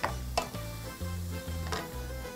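Chopped parsley sizzles in hot fat in a pan while making spaghetti carbonara, with the heat just switched off. The sizzle is steady and close, with a low hum beneath and a couple of sharp clinks.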